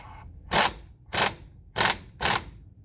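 Four short, loud bursts from an impact gun set to max, tightening the outer tie-rod nut on a 2003 Chevy Express G3500 6.0L van, evenly spaced about half a second apart with quiet gaps between.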